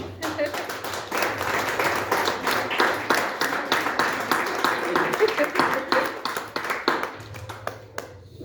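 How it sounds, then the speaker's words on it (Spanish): A church congregation bursts into sustained applause at a youth testimony service, dense clapping running steadily for several seconds and easing near the end, with voices mixed underneath. "Un aplauso."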